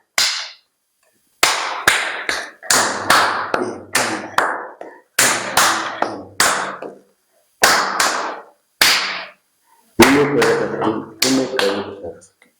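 Hands clap in quick rhythmic groups for a traditional Rwandan song beat, sharp close slaps in bursts separated by short pauses, repeating steadily over several cycles.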